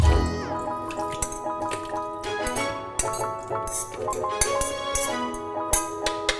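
Cooked carrots and a little of their cooking liquid are tipped into a blender, giving scattered clinks and knocks of glass and utensils with soft liquid splashes and drips, fairly quiet and close with no talking.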